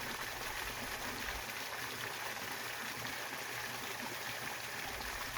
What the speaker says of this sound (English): There's a couple waterfalls.